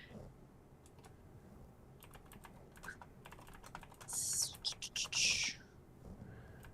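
Fast clicky typing on a computer keyboard in bursts of keystrokes, close and quiet, with a louder chirpy burst near the end.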